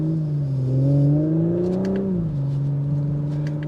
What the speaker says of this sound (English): So far I am pleased with the engine note, even though it's not like a V8.